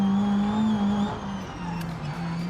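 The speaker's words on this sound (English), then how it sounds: "we're spinning the front tyres" A modified Renault Twingo on full racing slicks in BeamNG, its engine droning close and loud as it accelerates and the front tyres spin, the pitch dipping briefly at a gear change before climbing again.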